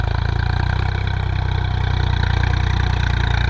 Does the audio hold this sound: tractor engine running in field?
yes